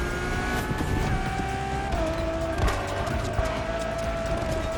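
Ferrari Enzo supercar engine in the racing game The Crew Motorfest, a steady loud drone with rising and shifting pitch through gear changes, heard close and continuous for about five seconds with no talk.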